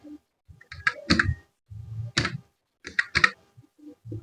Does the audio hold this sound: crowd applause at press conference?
no